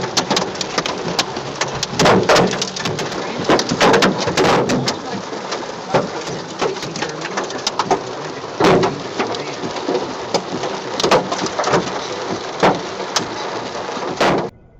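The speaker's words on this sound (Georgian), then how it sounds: "ციდან გოლფის ბურთის ზომის ნატეხები ცვიოდა" Golf-ball-sized hail pelting down in Dallas, a dense, steady clatter of hard impacts with sharper loud bursts throughout, like a heavy storm pounding surfaces close by, with no voices.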